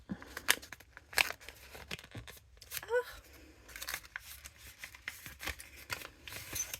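Paper crinkles and rustles as a small card is tugged out of a paper sachet, with sharp scratchy bursts and brief tearing sounds, close and soft, while someone speaks quietly.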